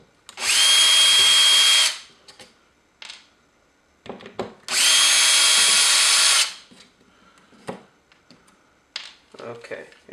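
Power drill driving screws into a Version 2 airsoft gearbox while it is being rewired, two long steady whirring bursts of about one and a half seconds each, close and loud, separated by small clicks and handling noises.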